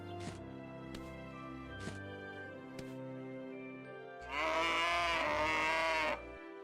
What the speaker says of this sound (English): Pet the cow.